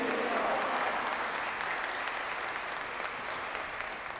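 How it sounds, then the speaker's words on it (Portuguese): A congregation at a novena for Our Lady of Aparecida breaks into sustained, dense applause that holds steady and fades slightly toward the end, filling the room with no voices on top. "Uma salva de palmas à nossa querida mãe."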